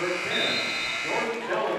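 The horn sounds at the end of the first half of a high school boys' basketball game, Highland at Northmor: a loud, steady electronic buzz lasting the whole moment, under an excited commentator and crowd noise in the gym.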